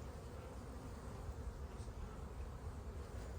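A honeybee colony hums steadily over a hive frame holding brood and a laying queen. The dense, continuous buzzing is close and even throughout, with no talking.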